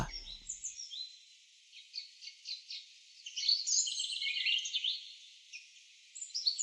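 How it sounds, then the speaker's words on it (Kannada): Small birds chirp and twitter continuously at moderate distance, high-pitched calls in quick bursts over a quiet background. "ಈ ಪಕ್ಷಿಗಳ ಚಿಲಿಪಿಲಿ"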